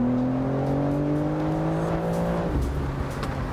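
A BMW M4 Competition Convertible pulls hard under acceleration, its exhaust rising steadily in pitch, then dropping sharply as the gear changes before it climbs again. The sound is loud and close.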